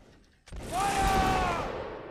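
A musket volley fired by a line of troops in Mount and Blade: one sudden loud crack that swells into a sustained rolling roar of massed shots, fading slowly with a faint whistling tone in the tail.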